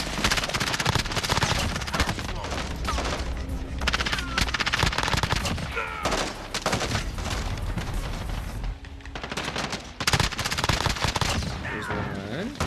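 MG34 machine gun fire in Warzone: loud, rapid sustained bursts with short breaks, mixed with booms and other gunfire, and a voice speaking briefly underneath.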